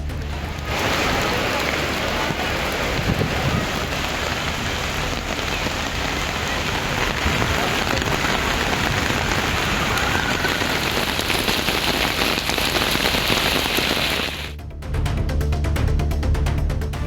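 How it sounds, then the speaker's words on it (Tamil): Heavy summer rain falls over Tirupati, a loud, dense, unbroken roar of drops hitting the ground that dips briefly before continuing. "திருப்பதியில் கோடை மழை சுமார் 1 மணி நேரம் வெளுத்து வாங்கியது."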